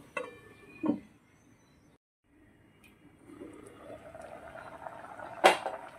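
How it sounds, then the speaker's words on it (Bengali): Moong dal with tomato and chilli simmers in a covered pot, a quiet, faint bubbling with a couple of sharp clinks from the pot or lid. "ডালটা আমার ভালো মতোই ফুটছে"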